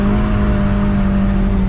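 A BMW E30 drift car's engine drones loud and close at a steady high pitch, a sustained tonal roar with no pauses or voices.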